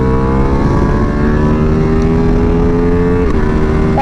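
Ducati Multistrada V4 Pikes Peak V4 engine pulling hard in a loud, sustained drone, with one quick quickshifter gear change that briefly cuts and drops the pitch.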